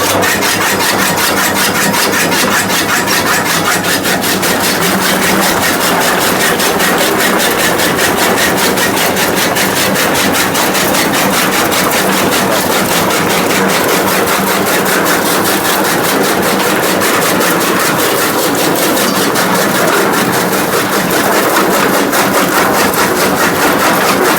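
A Sarpanch model kadba kutti chaff cutter machine runs steadily throughout, giving a loud, continuous mechanical drone with a rapid rhythmic chatter and no voices.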